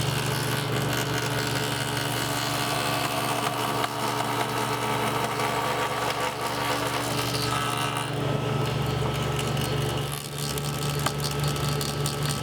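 Table saw crosscutting wooden blocks for a chess set rook, pushed through on a crosscut sled against a stop block; a steady loud motor whine and cutting noise runs throughout, with a brief change near the end.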